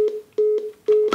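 A telephone line tone heard after picking up a handset connected on a test circuit: a steady beeping tone in repeated bursts of about a quarter second, each separated by short gaps, clear and close with no talk.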